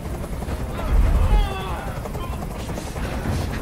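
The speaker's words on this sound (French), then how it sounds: "Fais dégager cet hélicoptère, maintenant." Helicopter hovering in the video game Detroit: Become Human, a steady low rotor drone beneath a noisy, busy scene that swells briefly, with voices present.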